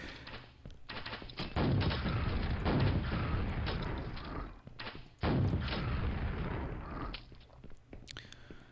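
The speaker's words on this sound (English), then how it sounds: "okay, yeah, the rocket launcher is kind of necessary" A rocket launcher fires in Quake (Quake Spasm), with repeated heavy booming blasts and rumbling explosions in several bursts, loud and close, with no talk over them.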